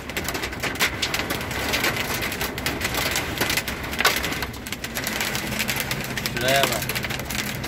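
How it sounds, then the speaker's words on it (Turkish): Dense, clattering patter of hail striking a car body, steady and close throughout, with someone talking excitedly over it and a brief whistling tone near the end. "Doluya bak bak."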